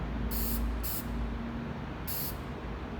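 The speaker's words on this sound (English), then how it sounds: "I'm going to spray the sides first." A spray paint can coats the sides of a pinewood derby car in three short, soft hisses, two close together and then one after a pause, against quiet background hum.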